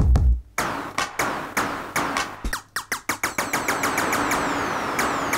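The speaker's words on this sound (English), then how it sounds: "All the analog drum modules are down here and they sound like this." Analog drum modules play a rhythmic pattern of sharp, punchy hits: a deep kick followed by rapid snare and clap-like strikes, loud and close with no voices.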